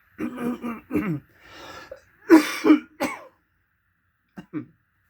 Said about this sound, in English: I had a coughing fit